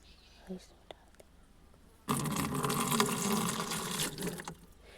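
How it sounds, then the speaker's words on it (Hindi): Water pours from a glass into a bottle, a steady broadband gush starting partway through and running for about two and a half seconds, close and fairly loud after a quiet opening. "तो इस गिलास से भरते हैं हम इस पानी को।"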